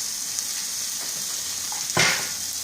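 Pork chops browning in a hot pan, a steady hiss of frying with a louder sizzling surge near the end as a chop is moved, no voices.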